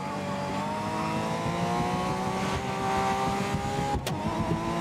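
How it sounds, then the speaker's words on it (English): A race car engine in the Grid 2019 video game holds a steady high whine with a rising pitch, loud and continuous, with a brief tonal chirp near the end and no voices. "Engine noise makes me feel like I'm slow, but my lap time doesn't say that I am."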